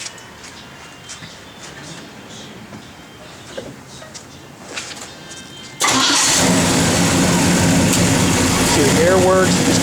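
A 1970 Pontiac GTO with a lumpy cam cranks and fires up midway, jumping from quiet shop ambience and a few voices to a loud, steady rumbling idle with slight revving.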